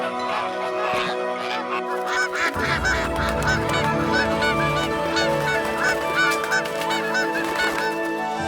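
A flock of geese honking loudly and repeatedly, overlapping nasal calls in an irregular chorus, close by and without talk.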